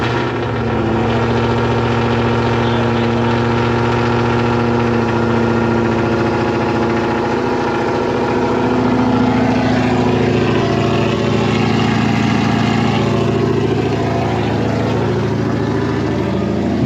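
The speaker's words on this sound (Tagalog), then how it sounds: "Maingay ang tambutso, hindi ang makina." Ford Mustang GT with a 420 hp engine and a loud aftermarket-sounding exhaust idling steadily, a deep, rumbling drone with strong low harmonics, close and constant with no talking.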